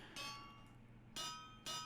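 Three sharp metallic hammer strikes with a ringing, bell-like tone, spaced irregularly over a low background hum.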